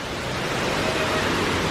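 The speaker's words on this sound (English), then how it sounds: "you get that sort of tranquil sound of that rushing water all the time while you're chilled out by the pool" Hotel pool waterfalls send up a steady, broad rush of falling water. The sound is close and constant, with no break across the short span.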